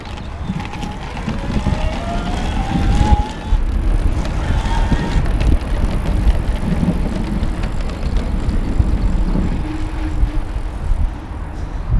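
A Focus Jarifa 29 electric mountain bike rides in turbo mode in third gear toward a hill, with a continuous rolling tyre and drivetrain rumble mixed with wind buffeting the microphone and a faint rising motor whine.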